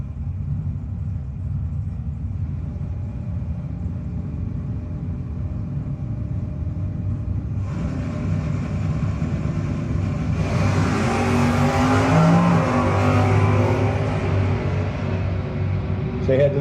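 Drag race with a Camaro against a Granada, a loud continuous engine rumble idling at the line that swells into a roaring launch partway through, with an announcer talking over it.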